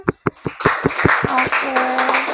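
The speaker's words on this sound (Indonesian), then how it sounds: "beri tepuk tangan" Scattered claps from a small classroom audience, a few sharp hand claps at first and then a brief wash of applause, with voices talking over it.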